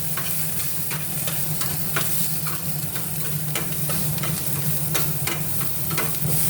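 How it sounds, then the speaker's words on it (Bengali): Chopped onion, carrot and capsicum stir-fried in a pan for a stuffed omelette, a steady close sizzle broken by repeated spatula scrapes and stirring knocks, with no talking. "পেঁয়াজ দিলাম, কুচনো পেঁয়াজগুলো দিয়ে দিলাম, ক্যাপসিকামটাও দিয়ে দিলাম। একটু ভাজছি, নাড়াচাড়া করি।"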